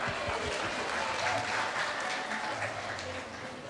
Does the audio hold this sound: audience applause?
yes